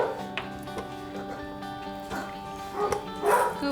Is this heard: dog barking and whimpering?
yes